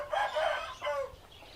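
A rooster on a bird-breeding farm lets out a single short, strident crow close by, fading quickly into quiet.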